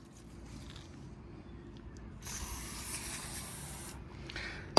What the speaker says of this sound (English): the WD-40 product does not really foam when sprayed